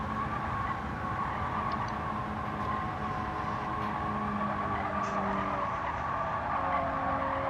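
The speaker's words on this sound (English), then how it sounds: "at the first half of the turn, there was like not much tire squealing, but then the second half of the turn there was a lot" Race car tires squealing through a turn, a steady, continuous skid that holds at an even level for several seconds without a break.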